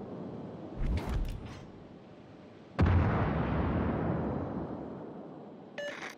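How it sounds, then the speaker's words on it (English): Naval guns fire on an enemy warship in a video game: a muffled blast near the first second, then a heavy boom with a long rumbling decay, and a faint clatter at the very end. "All stations, concentrate fire on the target."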